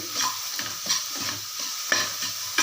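Onions are sautéed in a pan, a utensil scraping and stirring in a loose repeated rhythm over a continuous sizzle, close and clear with no talk.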